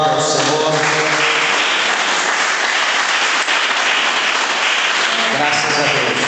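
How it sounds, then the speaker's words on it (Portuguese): Loud, dense clapping from a church congregation fills the space steadily from start to finish, with a voice briefly audible at the very beginning and again near the end. "meus irmãos, aplaudam ao Senhor."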